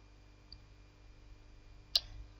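A single sharp computer mouse click lands near the end, with a fainter tap earlier, both in a quiet room with a low background hum.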